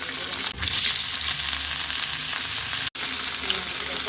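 Rohu fish frying in hot oil in a home kitchen, a loud, continuous bright sizzle with a brief dip in the middle, no voices.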